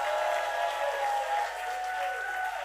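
A church congregation applauds and cheers in praise of the Lord during a worship service, a steady dense wash of clapping and voices held at an even level throughout, with no single speaker standing out.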